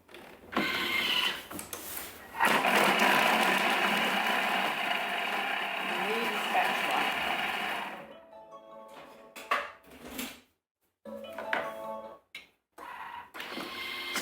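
A Thermomix whirs loudly while chopping ingredients for a family burger pie, a steady mechanical grinding for several seconds that then stops and gives way to short bursts and pauses, with a voice heard in places.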